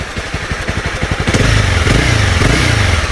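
A Honda CB300R motorcycle engine sputters through rapid cranking pulses, then catches and settles into a loud, steady idle close by.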